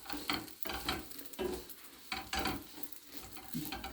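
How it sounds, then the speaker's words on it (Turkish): Pieces of food fry in a hot pan while a utensil stirs them, giving a close, steady sizzle broken by repeated scraping strokes, with no talk. "Yakmadan şöyle bir kırmızı kırmızı kızartayım da yine uğraşayım da"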